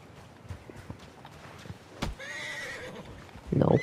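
A horse in Red Dead Redemption 2 clip-clops a few hoof steps, then lets out a loud, wavering whinny, followed by a heavy snort or thud close by.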